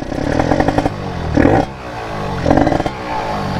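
A repaired motorcycle engine runs close by after new front gear and gearbox seals, idling with a choppy rattling note and swelling twice in short revs before settling back.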